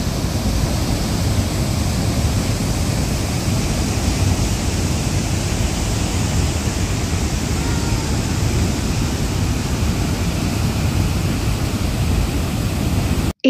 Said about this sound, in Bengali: এই জলপ্রপাতটির মোট উচ্চতা 100 ফিট। এই জলপ্রপাতটিও ঘন বন এলাকায় অবস্থিত।